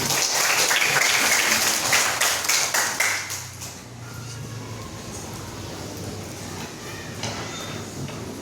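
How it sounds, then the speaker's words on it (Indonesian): A group of schoolchildren in a classroom lesson claps in a dense, lively burst for about three seconds, then the applause quickly thins to scattered faint claps over room noise. "tepuk tangan untuk kalian"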